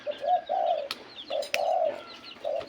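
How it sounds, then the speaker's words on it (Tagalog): A zebra dove coos in repeated soft, rounded phrases, three clear bursts with short gaps, close by and alone, with a few faint chirps in between. "so tingnan nyo yung bato-bato natin doon"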